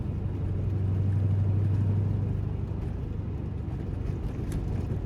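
A Ford Mustang fitted with a new X pipe and eBay mufflers driving, a low steady exhaust drone with a brief rising engine tone, heard from inside the car.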